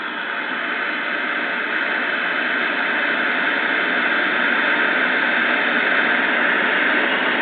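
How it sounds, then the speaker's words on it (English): A 1963 RCA Victor 19-inch black-and-white TV hisses with steady broadband static, a loud, even rushing noise that holds unchanged throughout with no voices. "Now I hear static,"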